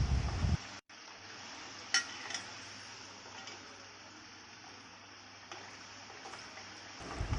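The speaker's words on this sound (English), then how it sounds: "After few minutes of frying, turn them around." Chakinalu snacks fry in hot oil with a steady, even sizzle that runs unbroken. A few light clinks and stirring sounds drift in over it, and there is no talking.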